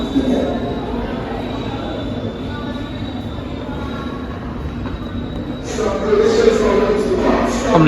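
Inside a moving train carriage, a steady loud rumble of rails and wheels runs throughout, with high wheel squeal and a rise in roar near the end, heard up close from a seat.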